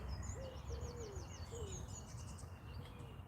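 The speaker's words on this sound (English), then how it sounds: "You're always buzzing, you birds, aren't you?" Birds call outdoors, a series of thin high chirping trills with a lower whistled note now and then, faint and somewhat distant over a steady background hiss.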